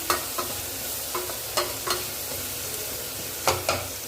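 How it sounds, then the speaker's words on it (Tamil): Onions and mushrooms sautéing in a pan with salt, a soft continuous sizzle broken by several sharp scrapes and clacks of a spatula stirring, close and alone without speech. "இப்போ பாருங்கள் வெங்காயம் வதங்கியாச்சு"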